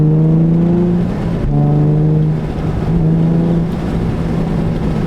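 Nissan 350Z/370Z with an Invidia Gemini cat-back exhaust and Berk Tech high-flow cats, heard from inside the cabin: a loud, deep droning engine note that climbs in pitch through two or three pulls, briefly easing between them.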